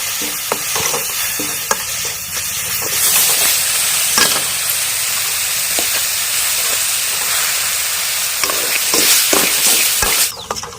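Onions with turmeric and salt frying for a village-style onion pasta, a loud, close sizzle and steamy hiss under repeated scraping and clacking stir strokes over about ten seconds, with no talking.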